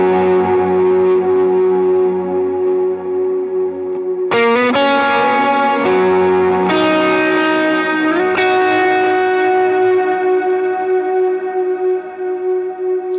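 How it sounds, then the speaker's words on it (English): An electric guitar lead played through an ODR-1 overdrive pedal with repeating echoes: sustained, distorted notes ring out one after another, bending and shifting pitch, loud and close with no talking. "for this section, I have the overdrive on, so I've kicked on the ODR-1"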